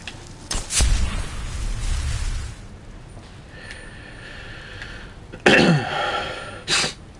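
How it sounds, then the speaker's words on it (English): A single loud, close sneeze bursts out suddenly in a Skyrim gameplay recording, preceded by a sharp intake and followed moments later by a shorter second burst, over quiet background. "sneeze came right out of nowhere"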